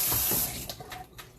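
A kitchen tap runs for a quick wash while banana bread is being made, a loud hissing spray for the first half-second, then fading into softer trickles and a few light clinks.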